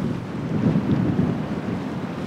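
Strong wind gusting across open Patagonian terrain at Torres del Paine, a steady loud roar buffeting the microphone with no voices.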